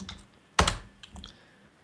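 A single sharp computer keyboard keypress, likely an arrow key, lands mid-clip, followed by a couple of softer key taps in a quiet room.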